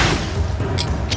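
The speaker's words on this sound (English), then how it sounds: "Flashbang!" A flashbang grenade going off in the video game Alan Wake, a loud, dense boom with a bright burst of noise that fills the whole short moment, followed by a couple of brief sharp crackles.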